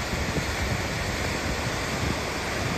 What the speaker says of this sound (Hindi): मड़ी वाले रास्ते का बहुत ही प्यारा सा वाटरफॉल